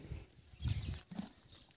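Hooves of a spotless mare for sale in rural Rajasthan clop in a few soft, uneven steps on the ground nearby, fairly quiet and with no talking.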